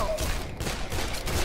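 Dead Island gunfire, a dense close volley of shots packed into a second and a half under a noisy game mix.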